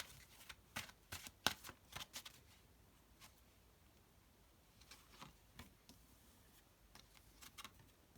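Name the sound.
shuffling tarot cards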